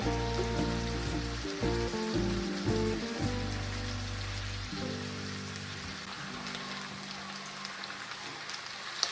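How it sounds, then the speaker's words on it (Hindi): Chicken pieces frying in reused vegetable oil with extra oil added, a steady crackling sizzle throughout, partly under tonal background music that fades after a few seconds. "हमने उसी ऑयल में थोड़ा ऑयल डाल के और ये चिकन हमने इसमें डाल दिया फ्राई होने के लिए।"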